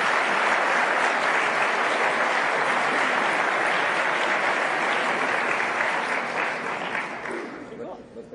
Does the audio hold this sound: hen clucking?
no